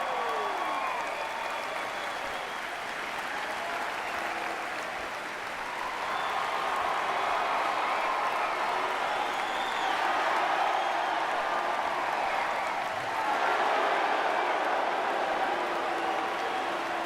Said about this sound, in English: let's have a round of applause for all our superstars and divas in attendance here tonight